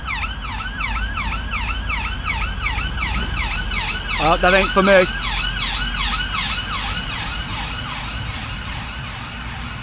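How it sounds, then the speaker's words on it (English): An ambulance siren wails steadily at a roundabout, rising and falling in a fast, repeating pattern over traffic noise, with someone briefly speaking partway through. "Nah, it's an ambulance."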